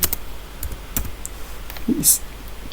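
Keys on a computer keyboard are typed in sparse, crisp taps while entering a Linux terminal command, with a few scattered clicks and a brighter clack near the end, close and fairly quiet.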